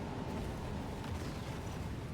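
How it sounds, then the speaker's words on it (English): Loud, continuous rumbling blasts from a racing video game, dense low booming explosions overlapping one another without pause, no clear gaps between them. "Explosions ripping back and forth."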